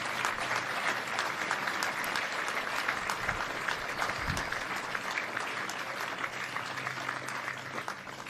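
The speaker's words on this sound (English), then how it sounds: "A big hand of applause for the Sea Rangers." A crowd applauds steadily for several seconds, a dense wash of clapping that holds fairly even before easing slightly toward the end.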